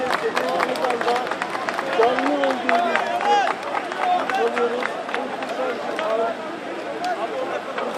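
Crowd applause and clapping after Buse is pulled out at an earthquake rescue scene, sharp scattered claps mixed with excited voices and chatter from a nearby crowd throughout.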